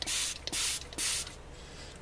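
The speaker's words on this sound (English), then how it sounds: "I'm just spraying this leaf right now" A handheld water spray bottle mists a leaf in a chameleon enclosure: three sharp, close hissing bursts in quick succession, each about a quarter second long, followed by quiet.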